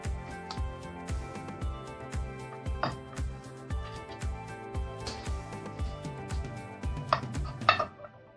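Big knife cutting through a non-dairy ice cream cake, a steady series of rhythmic thumps and taps against a plate or board with a few brighter clinks near the end, close up and without talk.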